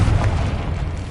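A Confringo spell explosion in Hogwarts Legacy, a heavy, continuous rumbling boom that fills the whole short moment at steady loudness, dense and low with no distinct onset.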